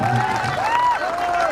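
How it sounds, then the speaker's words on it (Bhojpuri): An audience at a live stage show claps and cheers in a dense, steady wash, with a voice carrying over the crowd. "एक बार इनके लिए जोरदार ताली चाहिए"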